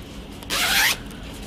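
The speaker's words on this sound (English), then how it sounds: "yeah, it's got a zipper." A single short zip on a canvas cross-stitch project bag, a bright rasping pull lasting about half a second. It is close and clear against quiet room noise, with no talking.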